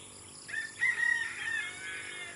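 A rooster crows once, clear and fairly close, over a quiet outdoor background.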